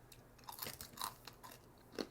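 Crunchy puffed fruit snack being chewed up close, a few distinct crisp bites and crunches spaced out over a couple of seconds.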